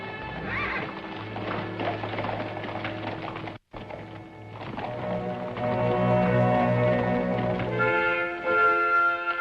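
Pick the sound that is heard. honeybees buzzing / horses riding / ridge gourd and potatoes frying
horses riding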